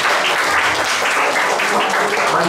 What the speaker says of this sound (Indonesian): Kita tepuk tangan untuk mereka.